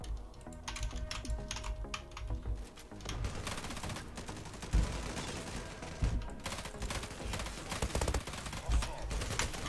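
Rapid automatic gunfire from a fast-firing weapon in an online shooter game, with dense bursts of rattling shots running almost continuously and punctuated by a few heavier booms, loud and close.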